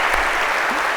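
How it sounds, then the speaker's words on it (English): A short burst of applause from a Harvard CS50 lecture audience, steady clapping that fills the moment without any talking. "a big round of applause, if we could, for Han."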